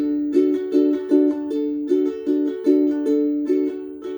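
Ukulele strummed quickly in a bright, repeating rhythmic pattern, steady and fairly loud with no voice over it.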